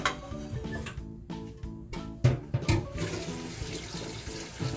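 Cold tap water runs steadily into a sink as boiled eggs cool under it, a close, continuous splashing stream broken by a few brief clinks and knocks.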